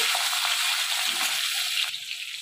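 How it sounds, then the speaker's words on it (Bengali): Capsicum lightly frying in a wok gives a steady, close sizzle that runs unbroken throughout, with a faint shift near the end and no talking. "আমি হালকা করে ক্যাপসিকামগুলো ভেজে নেব।"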